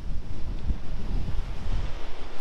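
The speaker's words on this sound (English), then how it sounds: "kind of ruins the noise of the ocean" Pacific Ocean waves washing around a pier in California, heard as a steady low rumble of surf under heavy gusting wind buffeting the microphone, loud and continuous.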